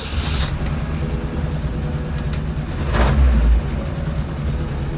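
A 1963 Volvo Amazon's engine runs loud and close with a manual transmission under test, holding a steady mid-pitched drone and swelling into a brief rev near the middle, with no talk.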